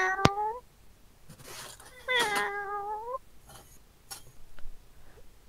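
A person imitates a cat with two drawn-out, wavering meows, one at the start and a longer one midway, with faint scattered clicks and noises between and after.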